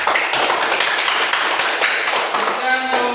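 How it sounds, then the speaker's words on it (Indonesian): Classroom applause for a student group, a steady dense patter of many hands clapping loudly throughout, with no talk over it. "Tepuk tangan untuk kelompok 2."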